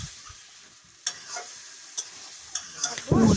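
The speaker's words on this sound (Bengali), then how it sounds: "আবারও নাড়তে থাকবো।" Chicken curry cooking in a wok gets stirred with a few sharp scrapes against the metal over a low sizzle, ending in a louder burst of frying.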